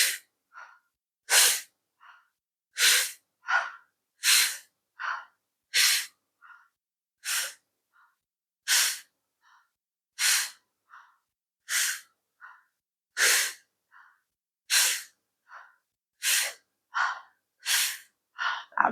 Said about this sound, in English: I definitely find it easier breathing through the mouth for this one.